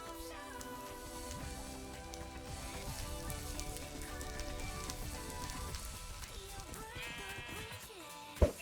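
Blocky sheep in the GT New Horizons Minecraft modpack give short wavering bleats over a busy game soundscape with crackling fire and rain, ending in a sharp sudden pop.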